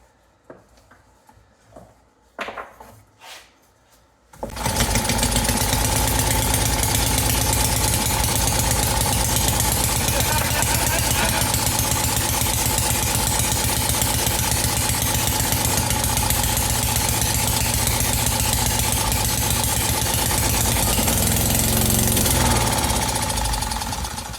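A 1936 Briggs & Stratton WM small engine stays quiet apart from a few brief knocks and fiddling sounds, then fires and runs loudly and steadily at close range with a dense, even chugging that continues to the end.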